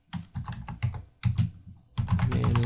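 Bursts of keystrokes on a computer keyboard entering a command at a prompt, close and clear, in short irregular clusters separated by brief pauses, with no voices.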